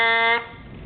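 A sustained lip buzz on a trumpet mouthpiece holds one steady, bright, harmonic-rich tone for about a third of a second, then cuts off, leaving a faint room tail.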